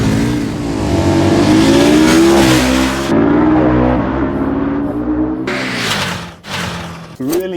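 A KTM motorcycle with automated manual transmission accelerates hard in sport mode, its engine revving loudly and rising through quick gear changes, with brief breaks between pulls as it passes close by.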